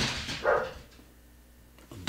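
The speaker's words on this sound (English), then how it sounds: "Dogs are losing their mind." Dogs bark briefly in the distance, one or two muffled woofs rising over a quiet indoor room.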